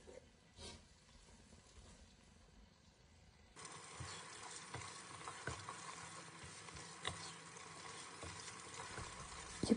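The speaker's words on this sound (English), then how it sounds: "mix them well. Cook for 2 to 3 minutes." Pasta sauce sizzles and fries in a pan while being stirred, a low steady hiss that grows louder partway through, with occasional scraping and clicks from the utensil.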